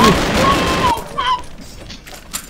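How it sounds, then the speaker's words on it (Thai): Gunfire from a test weapon in the video game World Hunter, a dense burst of rapid shots up front that cuts off into quieter scattered game effects, loud and close. "มาเทสปืนนะปืนนี้ยิง สี่นัดตาย"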